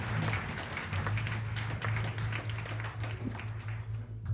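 A church congregation applauds and cheers during a morning service, a steady, dense wash of clapping filling the room throughout, with scattered voices rising within it.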